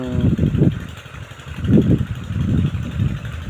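A small water pump engine runs in a sunny cornfield, chugging steadily at close range with a throbbing, slightly uneven idle.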